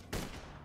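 A burst of gunfire in Borderlands 2, a body shot with a velocity-specced weapon, opens with a sharp loud crack and then rings on in a short dense tail with no voices.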